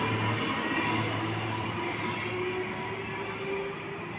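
A passenger train pulls away from Helensvale Station on the Gold Coast, bound for Brisbane City and Brisbane Airport, giving a steady, loud rumble and rail hum that carries evenly throughout.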